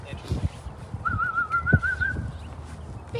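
A person whistles a single wavering, warbling tone at a Schnoodle dog. The whistle lasts about a second, clear and close, over low background noise.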